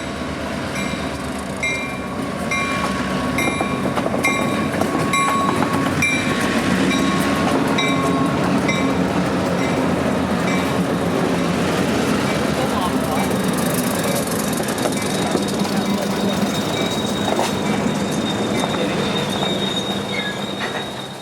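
A Georgia Northeastern Railroad short line freight train rolling past at Ball Ground, a steady loud rumble with high wheel squeal and faint rhythmic clacking, continuous throughout.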